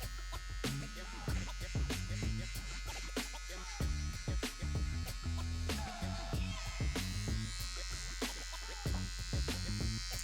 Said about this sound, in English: we're gonna grab our trimmer and we're gonna go all the way around just to mark that first line